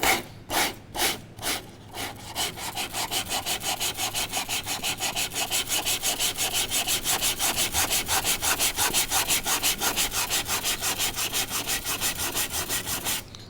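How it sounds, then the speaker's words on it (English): Steady hand sanding of a car wheel arch with 80 grit sandpaper on a flat block, a few separate strokes first, then a fast, even back-and-forth rasping rhythm, close and loud with no talk. "I've got a flat block here. Piece of 80 grit sandpaper, keep it nice and flat."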